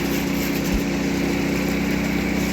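A chainsaw cuts through frozen spruce with a constant, loud engine drone that holds steady throughout and does not let up.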